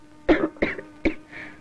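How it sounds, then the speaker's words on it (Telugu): A girl coughs three times in quick succession, short sharp bursts spaced a fraction of a second apart, followed by a softer breathy trailing sound, close and clear. "అమ్మాయి దగ్గుతున్నట్టుంది"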